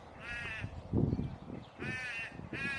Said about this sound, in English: There's a couple of crows sitting just up there